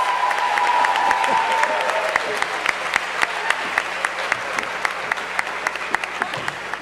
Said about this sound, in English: Why don't we greet them again with another round of applause